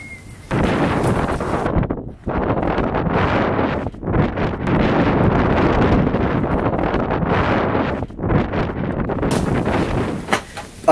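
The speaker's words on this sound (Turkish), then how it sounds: "Rüzgarın şiddeti arttı." Strong wind buffets the microphone in loud roaring gusts that surge and drop, with brief lulls between blasts.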